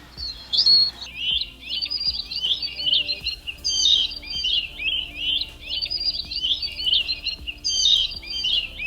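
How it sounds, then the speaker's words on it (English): AI-generated hummingbird chirping: rapid, high, twittering chirps in repeated bursts with short gaps, fairly close and clear, with nothing else beneath them. "It's only the hummingbird."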